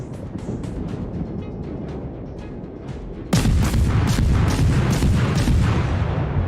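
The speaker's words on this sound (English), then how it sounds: "see, a 6-gun broadside, right there" German Tier II cruiser Dresden firing a six-gun naval broadside in World of Warships, heavy booming gunfire erupting midway over steady engine and water rumble, loud and close, with scattered shot reports after.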